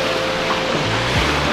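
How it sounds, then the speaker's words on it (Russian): Sea surf washing onto the shore of a jellyfish-filled beach at Lazurne, a steady broadband rush with a low hum underneath, close and fairly loud throughout. "зато волна какая пошла"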